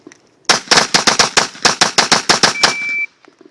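A burst of rapid Glock pistol shots, about a dozen sharp, loud reports fired in quick even succession and close to the listener, followed by brief quiet.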